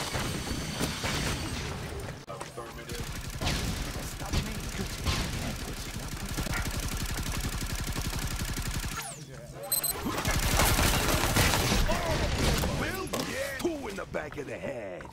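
Turret gunfire from the Block N Load video game: bursts of rapid automatic fire hammer steadily for several seconds, then a louder burst with explosive pops follows.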